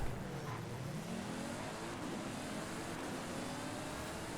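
A BMW Z4 engine revs steadily in a racing game, a continuous droning roar that holds near and fairly loud with no talk over it.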